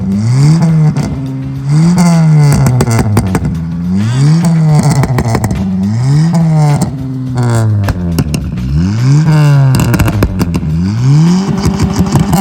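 A car engine fitted with a catalytic converter is revved hard again and again in a backfire and hard cut-off test, each loud rise in pitch snapping back down in a rapid repeating cycle.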